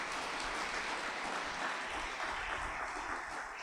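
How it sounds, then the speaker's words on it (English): Sustained applause from a graduation ceremony audience at a degree college in Bangalore, a dense, steady wash of many hands clapping throughout with no pauses. "Please give a big round of applause."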